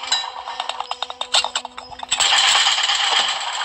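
Coin pickup effects from the Eyes horror video game ring out as a quick series of bright metallic clinks, then swell into a dense, shimmering jingle that holds to the end.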